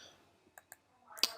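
A few quiet, sharp computer mouse clicks, sparse and close, with a faint rustle and a brighter click at the end, on a desk while working with image layers.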